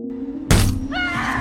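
A car windshield shatters with a sudden loud crash as a bird strikes it, followed by a brief crunch and a rising tonal sting in a tense film scene.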